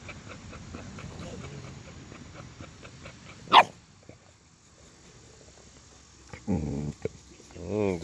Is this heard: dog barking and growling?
yes